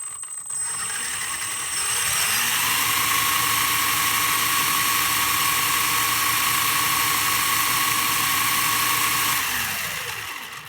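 Wheels of a Feiyue FY03H brushless RC car spinning up in a speed test: a steady high electric motor whine rises, holds for several seconds, then winds down, close and alone.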